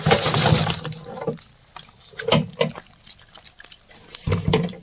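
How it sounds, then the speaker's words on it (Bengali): Water sloshes and pours while being changed for live koi fish, starting with a loud splashing gush, then intermittent splashes and drips close by. "এখানে জল পাল্টানো হচ্ছে"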